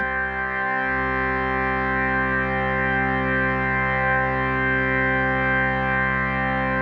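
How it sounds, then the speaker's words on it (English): A UDO Super 8 synthesizer holds a sustained, rich chord with slight pitch drift and a chorus-like shimmer, steady and loud with no other sounds. "Now let's add a little bit of drift to the Super 8."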